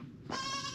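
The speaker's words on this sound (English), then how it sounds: "Can you hear the small sheep? I think it's inside here." Small sheep bleating from inside a farm building in Malta, a single fairly close, drawn-out bleat standing out above low outdoor background noise.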